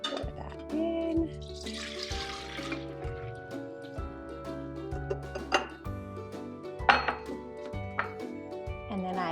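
Three measured cups of liquid are poured from a measuring cup into a bowl in a home kitchen, a brief splashing pour with light clinks of dishes, heard under steady background music.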